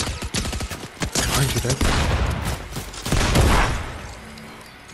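Rapid gunfire in the Fortnite video game crackles in close, overlapping bursts and volleys, with players talking over the shooting.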